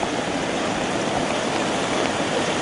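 A fast, swollen river rushes loudly and continuously, a dense broadband roar of churning water close by with no pauses.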